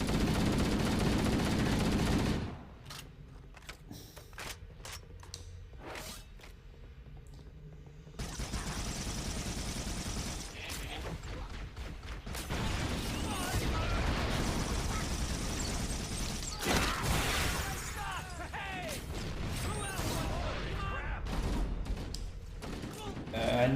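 Automatic assault rifle fire in the video game Halo: Combat Evolved comes in rapid bursts, loudest near the start and then scattered through the clip. A voice talks over much of it.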